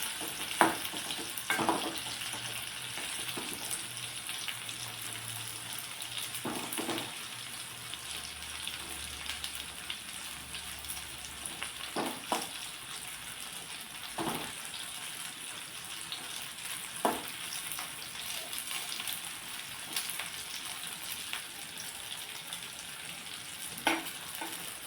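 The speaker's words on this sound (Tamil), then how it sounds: "இந்த எண்ணெயில் படுற மாதிரி நல்லா பீட்ரூட்டெல்லாம் நல்லா வேக விடுங்க" Beetroot frying in oil in a pan, a steady broadband sizzle with periodic scraping stir strokes, fairly quiet and continuous with no talking.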